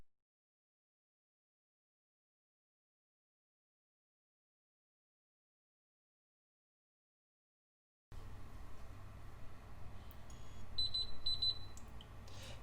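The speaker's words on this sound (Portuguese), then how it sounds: "Ele emite o sinal sonoro" An Electrolux IE6SF induction cooktop sounds its timer, giving a few short, high electronic beeps in quick succession. They are faint and close, over a low background hum, after a long stretch of silence.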